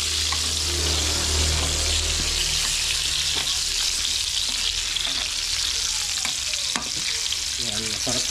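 Tilapia frying in a pan, a loud continuous sizzle and crackle of hot oil with scattered pops and a few clinks, close up.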